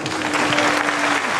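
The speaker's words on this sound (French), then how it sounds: "On vous applaudit très fort" An audience at a small-business awards ceremony claps steadily and densely, loud and close, for the whole moment, with a faint steady tone underneath.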